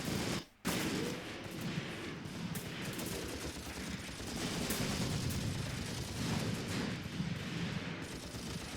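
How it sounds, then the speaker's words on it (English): MP40 submachine gun fire in the war game Graviteam Tactics, a dense and steady crackle of shots and distant battle noise that runs throughout. "Lauter, fire that MP40."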